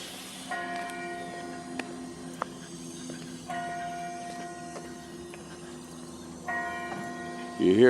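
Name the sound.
Methodist church bell chimes ringing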